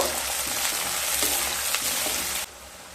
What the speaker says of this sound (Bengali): 3টা মিডিয়াম সাইজের কেটে রাখা পেঁয়াজ দিয়ে দেব। পেঁয়াজটাকে হালকা ভেজে নেব।